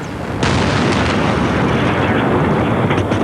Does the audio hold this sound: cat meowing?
no